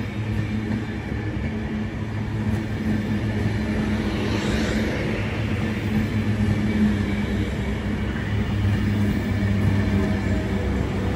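An Avanti West Coast train from London Euston to Manchester Piccadilly passes through Crewe station on the West Coast Main Line, a steady loud rumble of wheels and motors rolling by throughout with no talk.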